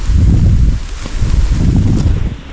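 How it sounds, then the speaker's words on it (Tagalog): Gusty wind blows outdoors beside a house under construction among green trees, a low, steady rumble buffeting the microphone for the whole stretch with a brief lull partway through. "Mahangin naman."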